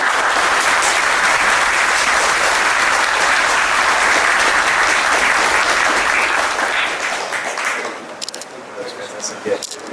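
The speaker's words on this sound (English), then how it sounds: "Let's make a big applause for our panelists." A conference audience at a blockchain week panel on DeFi breaks into loud, sustained applause for the panelists, a dense wash of clapping that fades out toward the end.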